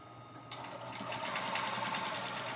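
A sewing machine stitching through fleece sherpa blanket fabric starts up after a brief pause and then hums along in a steady, close, continuous whir.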